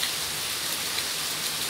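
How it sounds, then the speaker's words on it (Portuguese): Light early-morning rain falls over Campinas, São Paulo, producing a steady, even hiss of drops on surfaces with no break or change throughout. "E mostrando pra vocês essa bela chuvinha de hoje"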